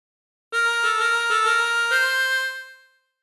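A chromatic harmonica plays a short phrase from the Family Guy theme, a bright reedy melody of several quick repeated notes rising to a held tone that fades out, played alone.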